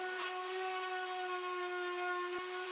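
A random orbit sander fitted with 60 grit sandpaper works over table saw burn marks on wood, a steady loud whine with a constant tone holding through the whole stretch and one brief dip near the end.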